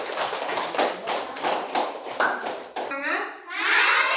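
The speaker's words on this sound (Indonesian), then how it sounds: "Jadi tepuk tangan kembali untuk kelompok 2." Children in a classroom clap for a student group, a quick run of sharp, fairly close claps in uneven rhythm, ending with a brief burst of shouting.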